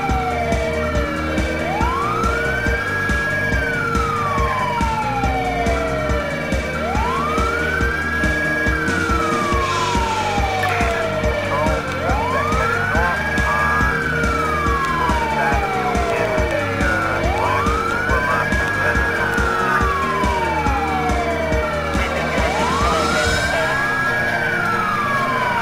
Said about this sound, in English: Doing double sirens because this is just getting crazy.